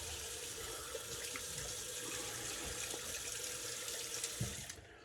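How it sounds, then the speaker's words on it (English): A tap runs steadily into a sink as a face is rinsed after a wet shave with a safety razor, a continuous close rush of water that cuts off at the very end. "So let's rinse off and see where we're at overall."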